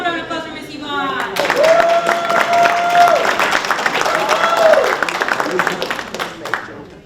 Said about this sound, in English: One more round of applause for Miss Yvonne